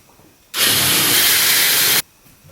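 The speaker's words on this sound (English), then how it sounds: "I'm just drilling those about 1 inch in." A power drill bores about an inch deep into the base of a homemade Halloween tombstone, one loud continuous whine lasting about a second and a half, close and alone between quiet pauses.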